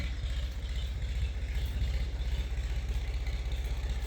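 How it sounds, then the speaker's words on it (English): New tractor engine running at a steady idle nearby at a homestead cabin build, a loud, even, rapidly pulsing diesel-like throb with a faint clatter on top. "sorry if the tractor is a little loud, guys"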